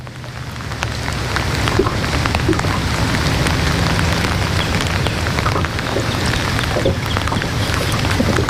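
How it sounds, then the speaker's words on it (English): Steady rain falls on a surface and water outdoors during a fishing outing, a dense, even hiss of drops that holds without a break, with no voices. "I have to do this one in the rain today"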